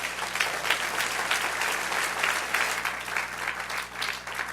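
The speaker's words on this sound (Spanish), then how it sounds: "Denle un aplauso al Señor." Applause from a church congregation, many hands clapping in a full, continuous roar that holds steady throughout.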